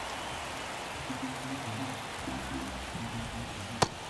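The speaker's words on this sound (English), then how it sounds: "the field's not going to be able to hold up if the rain gets any worse than this" Steady rain falls on a baseball field in MLB The Show 24, a dense even hiss with faint crowd murmur beneath and one sharp crack near the end.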